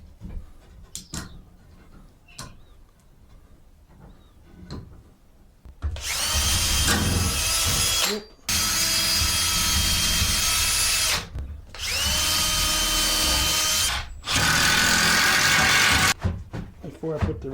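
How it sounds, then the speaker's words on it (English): A power drill drives screws to fix a wooden space-saver table to a wall, three long loud whirring bursts with brief pauses between, after a quieter stretch of handling noises. "Before I put the rest of the screws in the leg, I'm gonna screw it to the wall."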